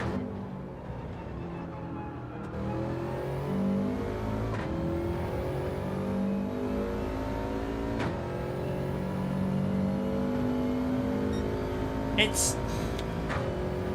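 Race car engine in Gran Turismo 7, a steady droning roar whose pitch climbs and drops through gear changes as the car laps, continuous throughout with someone talking over it.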